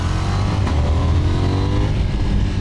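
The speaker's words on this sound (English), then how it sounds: "That gear change between first and second is quite bop, quite abrupt" A KTM 990 Duke R naked motorcycle is being ridden and shifts abruptly from first to second gear. The engine drones steadily and loudly close by, with a brief break in its tone as the gear changes.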